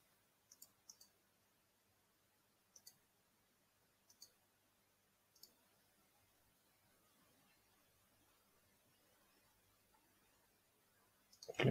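Faint, sparse computer mouse clicks, a few single and double taps spaced seconds apart over a quiet hush, followed by a louder bump at the very end.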